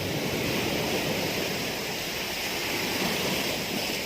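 Big sea waves at the seashore make a steady, loud, broadband roar of surf that stays even throughout, with no voices over it.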